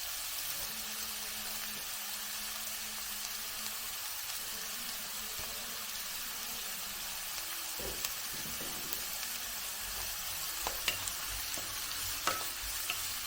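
Salted onions sizzle in a pan for an egg and bread masala, a steady frying hiss with occasional scraping and clinks of a spoon stirring them.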